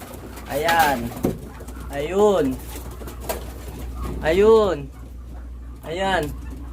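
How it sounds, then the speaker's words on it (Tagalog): Racing pigeons coming home to the loft after a first toss coo in several loud, close bursts. Other birds are faintly audible in the background. "Nag-uwian sila mga kalapatids."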